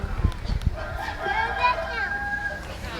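A sea lion-type seal at a zoo show gives a husky, chicken-like crowing call, a wavering drawn-out vocalization lasting a couple of seconds, heard close after some handling thumps, with crowd ambience around it.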